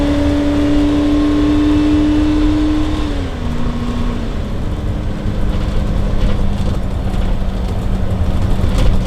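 A 2006 Tiffin Allegro Bay 37DB gas Class A motorhome engine accelerates onto a highway with its Allison transmission in passing gear, a loud, steady droning hum whose pitch dips as it shifts, with road noise and no talk.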